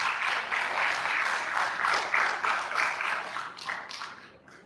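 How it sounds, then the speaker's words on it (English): An audience claps at a research foundation launch and fundraising event, a dense round of applause that swells and then thins out toward the end, with no talking over it. "Please give him a round of applause."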